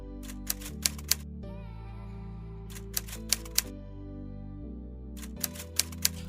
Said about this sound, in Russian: тут больше эффект именно клацания печатной машинки старой